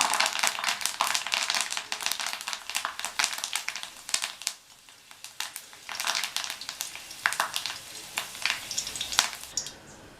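Curry leaves crackling in hot oil alongside fried snake gourd in a pan, with the stove just switched off; quiet, uneven bursts of sizzling and spattering pops with stirring noises, fading and returning throughout.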